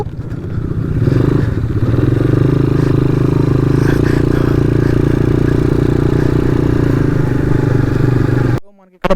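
A 250cc ATV quad bike rides over snow, its steady mid-pitched engine drone running loud and close for several seconds before cutting out abruptly near the end.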